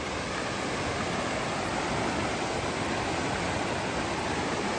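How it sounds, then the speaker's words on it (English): Glacier-fed Kicking Horse River rushing just behind a campsite, a dense, constant roar of water that stays loud and even throughout with nothing else over it. "Just literally at the back of our campsite is the Kicking Horse River."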